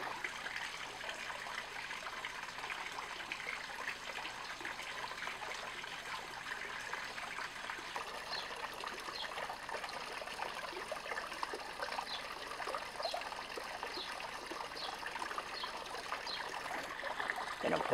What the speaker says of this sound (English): take the test tube here, fill it up with about 5 milliliters of water up to the fill line